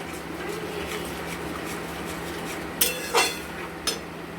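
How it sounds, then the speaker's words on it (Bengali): A spoon stirs spice paste and yogurt in a pan. Soft scraping runs under a low hum, broken by three sharp metallic clinks of utensil on pan near the end, close and fairly quiet. "দিয়ে এটাকে আমরা অনবরত নাড়তে থাকবো"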